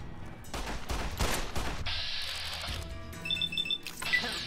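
Repeated gunfire from Fallout: New Vegas, a rapid burst of several close shots in the first two seconds followed by game ambience and faint electronic tones.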